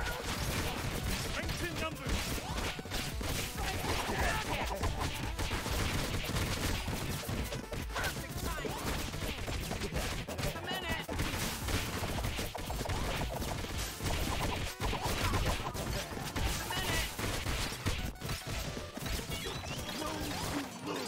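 Mondo missiles exploding during a six-player survival video game, a dense, continuous barrage of loud blasts and crashes running the whole time without pause, with voices mixed in.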